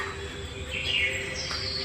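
Birds at an exhibit display, a brief faint chirp or call rising over steady background room noise, short and soft.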